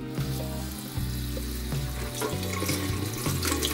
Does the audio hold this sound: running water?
yes